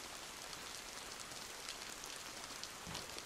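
Steady rain patters across the ground in the survival game DayZ, a soft, even hiss that continues throughout with no voices.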